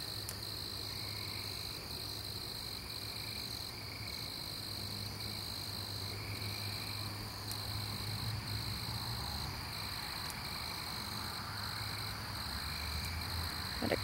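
Steady, high-pitched cricket chirping fills the foreground while a chorus of tree frogs trills more softly in the distance, continuous throughout, outdoors at night in Tulsa, Oklahoma.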